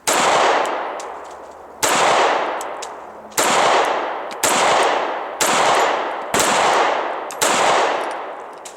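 Seven sharp pistol shots from a Sig Sauer P938 ring out at a target at close range, evenly spaced about a second and a half apart, each loud crack followed by a decaying echo.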